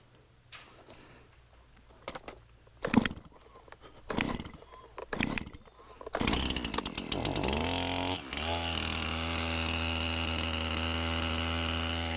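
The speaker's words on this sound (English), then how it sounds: "It's time to cold start this saw." Cold start of a chainsaw on full choke: several sharp rope pulls, then the engine catches and sputters before settling into a loud, steady idle close by.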